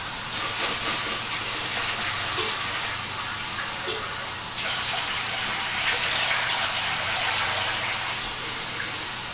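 Sticky rice being washed in water in a kitchen, a steady, loud rush of running water with hissing splashes that continues throughout.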